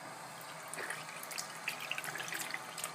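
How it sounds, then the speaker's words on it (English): Water runs from a tap over a small e-juice tank being rinsed, a soft, continuous splashing trickle with scattered droplet patter, faint and close. "We're going to turn the water on."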